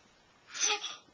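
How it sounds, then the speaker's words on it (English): A small child's sneeze, a single brief burst rising out of near silence, close and fairly soft, with a short breathy tail after it. "Oh, bless you."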